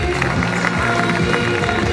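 Applause for a singer at the Festival Italia in Musica TV show, a steady dense wash of clapping from a live audience that holds at an even level from start to finish, with no voices standing out.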